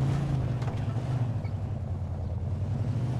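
A steady low engine hum drones continuously as a car drives in the video game Mafia 2, with a faint whooshing noise layered over it and no voices.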